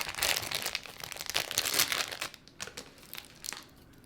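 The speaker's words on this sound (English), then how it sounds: "So another plastic bag here." Plastic bag wrapping crinkling while a Yema Superman Black watch is unboxed, close and soft: a burst of dense, continuous rustling that thins out into scattered crackles and stops, with no talking.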